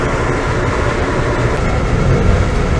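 Inside a passenger train leaving a station on the Washington, DC to New York City route: a steady, loud rumble of wheels and carriage noise, continuous and fairly uniform throughout, with no speech.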